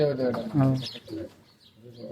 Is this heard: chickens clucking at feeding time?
no